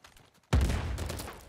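A pistol shot in the PS4 game Uncharted 4 (Bounty Hunter multiplayer) cracks loudly after a quiet stretch, followed by a dense, rumbling burst of gunfire that keeps going to the end.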